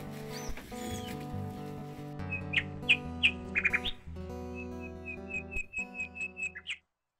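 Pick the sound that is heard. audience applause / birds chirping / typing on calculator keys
birds chirping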